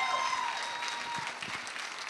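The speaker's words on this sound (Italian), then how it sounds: "Un applauso per Marika e per le sue straordinarie allieve." An audience applauds for Marika and her students at a music festival, steady broadband clapping that stays fairly quiet and even, heard alone.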